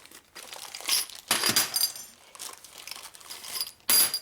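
A dull knife tearing through tough plastic during a 1961 Harley-Davidson Sportster XLCH rebuild makes sharp, close crinkling and ripping bursts, several short tears separated by quieter gaps.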